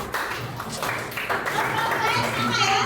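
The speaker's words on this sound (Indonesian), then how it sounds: "Tepuk tangan untuk Tasya." Schoolchildren in an eighth-grade science class clap for a classmate, a dense ragged patter of small hands mixed with children's voices chattering throughout.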